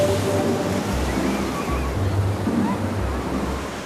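Ocean surf washes and rumbles steadily around a surfer out on the water, with a loud broadband roar and wind buffeting the microphone throughout.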